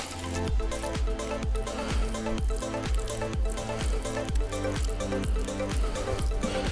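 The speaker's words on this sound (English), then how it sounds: "What I'm going to do is just ease a little water around it" Water poured from a jug around a newly planted chestnut tree on a mountain slope glugs in a quick, regular rhythm of close, hollow gulps and trickles, with no speech.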